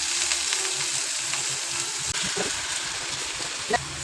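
Drumstick leaves frying in a pan with onion and capsicum give a steady, even sizzle throughout, with a few soft stirring clinks near the end.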